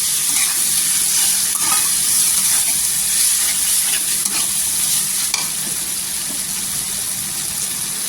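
Stuffed eggplant frying in masala, a loud, close, continuous sizzle with steady scraping as it is stirred, dense and even throughout without speech.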